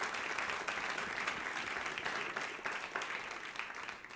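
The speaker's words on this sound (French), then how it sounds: "Oui, vous pouvez applaudir." Steady, even applause rises from an audience at a Christian talk, sustained for the whole stretch at a soft, somewhat distant level with no voices on top.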